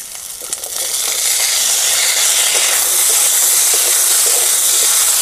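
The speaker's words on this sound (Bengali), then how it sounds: "এবার দিয়ে দেবো মটরশুঁটি।" Green peas drop into a pan of frying potatoes and chilli, and a loud, steady hiss of sizzling oil swells after a brief quieter start and carries on without a break.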